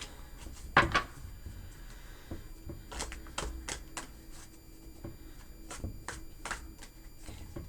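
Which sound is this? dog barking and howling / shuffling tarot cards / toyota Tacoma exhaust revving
shuffling tarot cards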